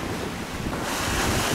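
Rough sea with a steady southwest wind aboard the sailing ship UTOPIA, beating close-hauled at nearly seven knots; continuous broadband wash of waves and wind buffeting the microphone, loud and unbroken, with no voices.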